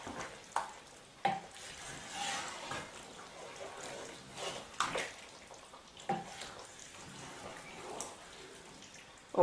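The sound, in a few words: stirring eggplant and mushroom stew in a pot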